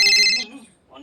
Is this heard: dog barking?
no